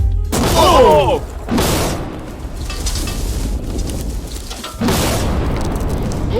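A heavy, booming TNT explosion blows apart a safe, loud and close, followed by a rumbling, windy roar that fades, then another blast-like surge of noise.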